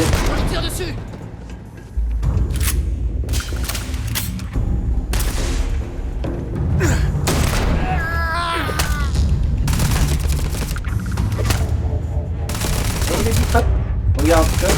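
Rapid bursts of sci-fi gunfire in Starfield crackle densely over a booming game soundscape, loud and continuous, with someone talking in French over the shooting.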